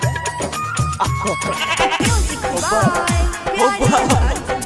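A goat bleats several times in a row, loud and close, with wavering cries that follow a steady rhythmic backing at the start.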